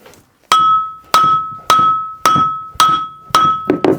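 A hammer strikes a seized part on a Harker steam engine during restoration, six sharp metallic blows at a steady rhythm with a ringing tone after each, then a few quicker hits at the end, close and loud.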